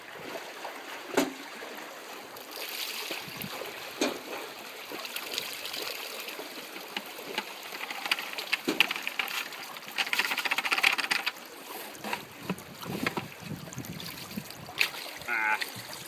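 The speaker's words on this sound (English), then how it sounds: "we'll just go ahead and pan this out" Gold pan being swirled in a stream, water sloshing and trickling steadily with occasional gravel rattles, close and moderately loud with no talking.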